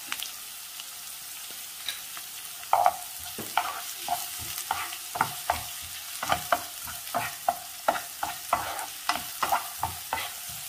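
Onion with red chili sautéing in a pan, a quiet low sizzle under a run of regular spatula scrapes and clicks that grow more frequent toward the end.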